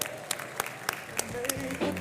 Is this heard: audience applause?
yes